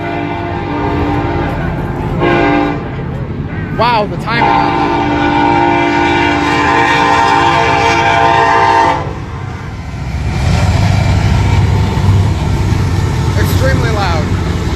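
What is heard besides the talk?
train passing a crossing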